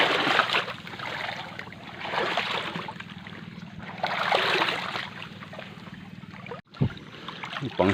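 Water sloshing and splashing as a dog swims through it, with a steady low engine hum underneath and outdoor ambience.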